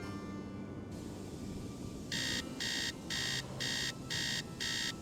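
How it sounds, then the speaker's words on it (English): Electronic alarm in the Nancy Drew: Treasure in the Royal Tower game, sounding as six evenly spaced, loud high-pitched beeps that start partway through over a low ambient rumble. "Oh, that beeping is so obnoxious."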